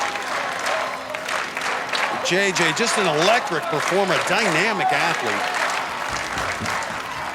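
A crowd at the American Ninja Warrior warp wall during the Orlando Finals cheers and claps steadily, with excited voices rising and falling beneath a commentator's voice.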